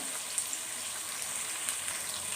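Onions, green chillies and curry leaves sizzle steadily in a hot pan, a soft continuous crackle with faint pops close by, with no voices over it.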